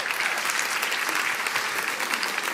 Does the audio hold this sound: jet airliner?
no